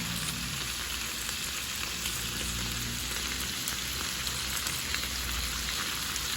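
Garlic fries in a pan for pork salpicao with mushrooms, giving a steady, even sizzle that holds unbroken at a moderate level with no voices.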